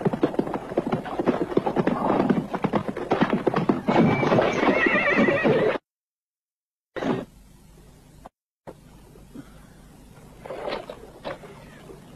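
Saddled horses in an Old West setting whinny and clatter their hooves in a busy burst, then fall quiet before fainter hoof clops and a distant neigh return.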